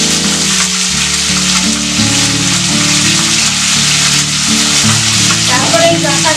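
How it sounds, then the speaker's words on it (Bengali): Tomato and vegetable stalks fry loudly in hot oil in a pan, giving a dense, steady sizzle throughout. A faint tonal hum sits underneath. "তেলের উপরে আমি আগে টমেটো দিলাম। তারপরে এই ডাঁটাগুলো দিয়ে একটু ভাজবো।"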